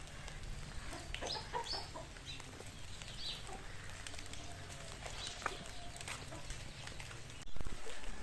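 Outdoors, chickens, chicks and a hen cluck and cheep in scattered calls over a noisy background, with brief wing flaps. The sound is moderately faint and busy.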